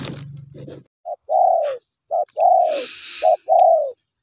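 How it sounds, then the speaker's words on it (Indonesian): A dove-like bird near a river and fallen oil palms gives repeated cooing calls, three clear phrases each a short note followed by a longer falling coo, fairly close in otherwise quiet surroundings after a brief rustle at the start. "cuman burung ini yang berbunyi di sekitaran kayu sungai ini sama sawit ini"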